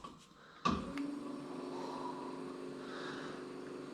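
A small electric motor on a 1972 Glasspar boat is switched on at its low 12-volt setting. After a click, a steady hum with a faint whine settles in and runs evenly, close by, with no talk.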